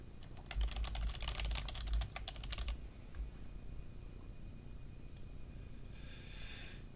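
Quick bursts of typing on a computer keyboard, a dense run of clicks for about three seconds and then silence, close and moderately loud.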